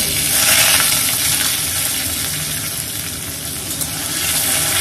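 Green chillies are tempered in hot oil in a home kitchen, giving a loud, continuous hissing sizzle that is steady from start to finish.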